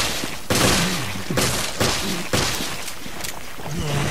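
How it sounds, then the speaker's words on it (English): Steyr AUG assault rifle fire in Resident Evil: Revelations, four or five loud close bursts of shots spaced through the clip, with a low synthetic game tone running between them. "Alright, so 8 shots from the Steyr AUG to take down a standard ooze"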